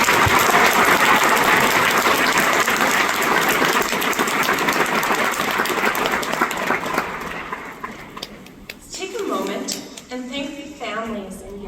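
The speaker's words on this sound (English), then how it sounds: "Let's give them a really big round of applause" Loud, dense applause from a graduation crowd honoring the teachers fills the first several seconds, then thins out and fades as a voice begins speaking.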